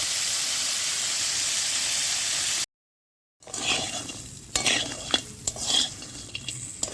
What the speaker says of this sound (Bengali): ক্যাঁকড়াগুলো তেলের মধ্যে দিয়ে দেবো ভেজে নেব ক্যাঁকড়াটাকে ভালো করে ভেজে নেবো